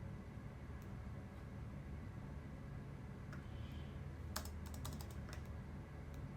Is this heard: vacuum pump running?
no